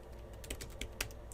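Router commands tapped out on a computer keyboard: quick, light, irregular key clicks in a short burst, close and fairly quiet.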